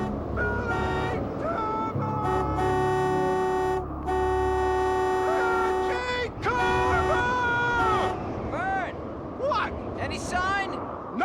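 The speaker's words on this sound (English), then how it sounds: "Just keep blowing that thing. Here, you watch, let me honk." A vehicle horn honks in long sustained blasts during a storm, steady tones repeating with brief gaps, with a low rumble and people talking over and around it.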